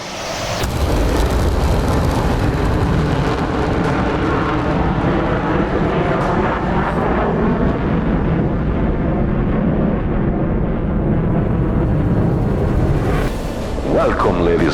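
A jet aircraft rolls out for takeoff on a rough runway in the flight simulator DCS World, a loud sustained engine roar with rumble and rattle throughout, rising into a brief burst near the end.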